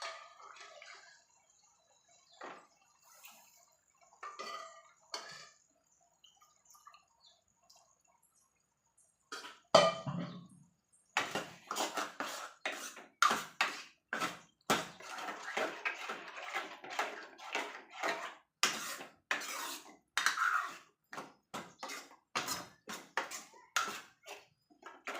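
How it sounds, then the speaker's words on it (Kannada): Cooked lentils (dal) being added to a pot for a pundi palya: after quiet kitchen handling, a wet splash and plop followed by repeated scraping, clinking and stirring taps against the vessel. "ಇವಾಗ ನಾನು ಬೇಯಿಸಿಟ್ಟಂಥ ಬ್ಯಾಳಿಯನ್ನು ಇದಕ್ಕೆ ಹಾಕ್ತೀನಿ."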